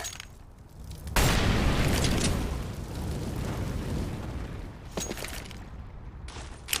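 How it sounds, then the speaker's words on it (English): An incendiary grenade in CS:GO bursts into flame with a sudden loud whoosh, then a sustained roaring fire crackle that eases slightly, with scattered sharp gunfire-like pops in the later seconds. "Throwing fire!"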